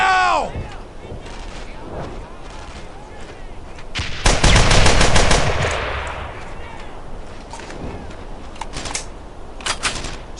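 Bursts of machine gun fire in the WWII shooter Brothers in Arms: Earned in Blood, a loud sustained rattling volley near the middle with scattered shorter shots before and after, amid shouting.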